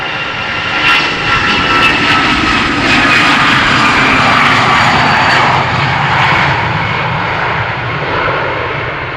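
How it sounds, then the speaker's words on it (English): A loud, steady jet engine roar fills the whole span, a big airplane departing runway 36L at Amsterdam Schiphol Airport, passing close overhead with a broad rushing rumble and no talking. "All those pesky airplanes making noises,"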